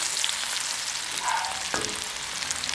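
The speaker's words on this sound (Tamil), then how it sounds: "இப்போ நாங்கள் இந்த உள்ளியை இதுக்கெல்லாம் போட போகிறோம்" Garlic frying in sesame oil for a garlic chutney: a steady, close, dense sizzle runs throughout, with a brief clink of a utensil partway through.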